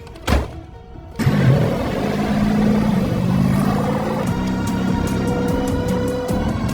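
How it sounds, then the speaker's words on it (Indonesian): A car engine in the film Ballerina (2025), driven through a snowy region, revs up after a sharp thud and then holds a loud, steady roar of acceleration with faint ticking on top. "F pun berkendara sendirian untuk mencari Ella dan sekte tersebut"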